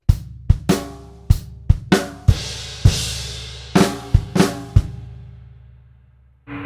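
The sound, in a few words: drum kit playing bars 7 and 8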